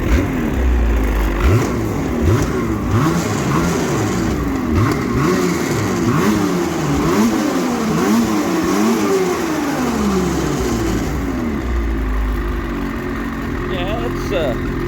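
A 2021 Ski-Doo 850 two-stroke snowmobile on its stock muffler, fairly new with 1500 km, revving up and down repeatedly with a steady engine drone between blips, loud and close, with people talking over it.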